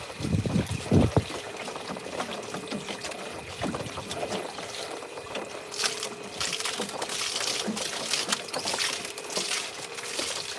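Water sloshes and trickles through a gold trommel screen, a low, continuous splashing and pouring with a few louder surges, fairly faint and without any talking.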